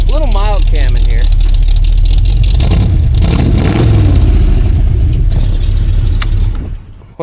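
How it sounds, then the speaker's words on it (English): A cammed Chevy C10 squarebody with a mild cam and a Holley carburetor, choke fully open, rumbles loud and close just after a cold start, with uneven revs and a lumpy idle, and a voice briefly over it at the start. "That's a cold start."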